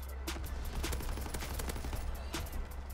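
An artillery barrage in Call of Duty WW2 comes as a steady, rapid fusillade of booming impacts and gunfire, dense and continuous throughout with no talking.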